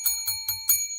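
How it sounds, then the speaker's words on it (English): A bright, ringing bell struck four times in a steady rhythm, each strike leaving sustained tones that carry over into the next. It is loud and close with no talking, used as a victory signal announcing a winning college football team's final score. "bing that bell"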